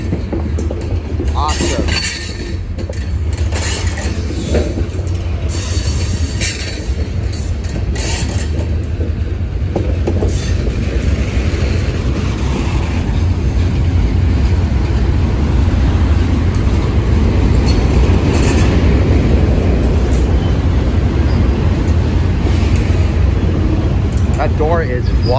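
A Union Pacific freight train rolls past at Mission Bay in San Jose, a loud continuous rumble with rhythmic wheel clatter and mechanical rattling over the full stretch, with someone speaking briefly over it.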